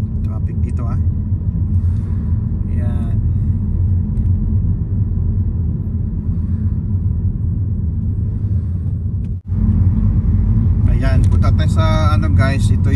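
A steady low rumble of road traffic fills Haverhill town centre, constant and close, with a brief dropout near the end and people talking faintly at times over it.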